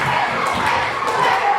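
A live wrestling crowd cheers loudly in an indoor arena, a dense roar of voices with scattered shouts and a few thuds from the ring, sustained and close.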